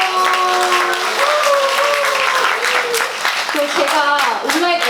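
Steady, loud applause from a group fills the space at a Korean gift-giving moment, mixed with overlapping voices and tonal background sound throughout.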